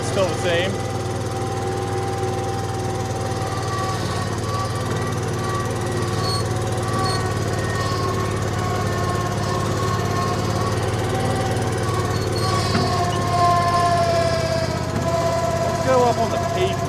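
A cheap $500 skid steer's engine runs loud and steady on pavement, a rough droning rumble with a recurring popping noise mixed in, close and continuous throughout.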